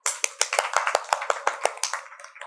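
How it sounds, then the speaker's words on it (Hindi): Clapping at a talk for young adults, about a dozen distinct sharp claps in a quick even rhythm, close and clear, tapering off at the end. "तालियां बजाओ"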